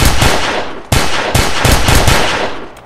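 Gunfire on a South Bronx street, a sharp burst of very loud, close shots with a distinct blast partway through and rapid follow-up cracks, harsh and overwhelming with no voices.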